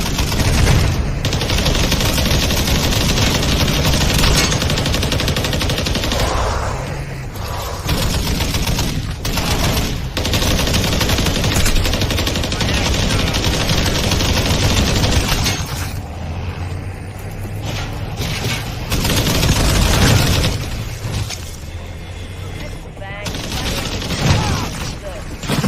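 Video game gunfire as soldiers shoot at something chasing them down a street: dense, loud, nearly continuous automatic fire and explosions that fill the whole stretch with hardly any break.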